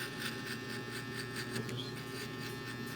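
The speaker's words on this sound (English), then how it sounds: "I prefer just knocking the hair down with the bigger clipper so you don't dull your trimmer" A large electric hair clipper buzzes steadily as it cuts hair during a barbershop fade haircut, a constant close hum with faint pulsing from the strokes.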